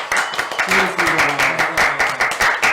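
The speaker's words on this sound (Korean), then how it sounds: "우리 다 같이 박수 치면서 오늘 방송에서 마치겠습니다." A studio crew at the close of a KBS broadcast talk show claps steadily in rhythmic bursts while voices talk over the applause.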